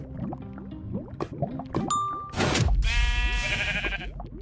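A sheep in the Minecraft video game bleats as it is killed, a short bleat among chiming game dings and splashy effects, followed by a loud noisy burst and a sustained tonal sound, fairly close.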